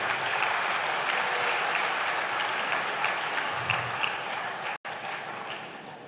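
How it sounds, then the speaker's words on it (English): Sustained crowd applause after a Vande Mataram salute, a thick, even wash of clapping at a distance, fairly faint, with a brief dropout near the end. "Vande Mataram needs a bigger applause."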